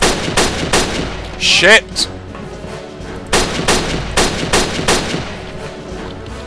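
Bursts of video game gunfire, rapid repeated shots in clusters with a brief whooshing sweep between them, loud and close, with a short exclaimed word from a player.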